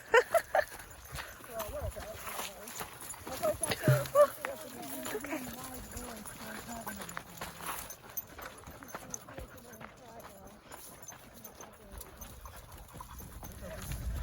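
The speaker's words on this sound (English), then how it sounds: "It's a goat stampede." A herd of goats runs past in a stampede, hooves clattering in quick bursts that stay fairly faint and scattered as voices talk over them.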